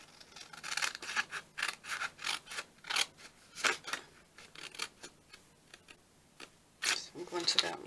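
Scissors cutting paper for a junk journal, a close series of crisp snips in an uneven rhythm with short pauses, while someone talks quietly throughout.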